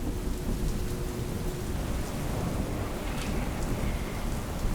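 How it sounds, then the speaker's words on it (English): Steady heavy rain pours down with rumbling thunder beneath, a dense continuous downpour at close range with no voices. "accompanied by rain and thunder"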